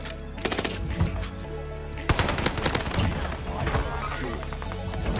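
An Owen gun fires in Warzone with rapid, loud automatic bursts, first short and choppy and then a longer sustained stream of shots over steady game background.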